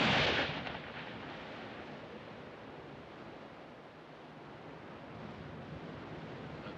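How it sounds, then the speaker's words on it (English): Ocean waves crashing on a shore, a loud surge of surf at the start settling into a continuous broad wash of water, steady and fairly near with no voices. "That and them damn waves flopping in all day long."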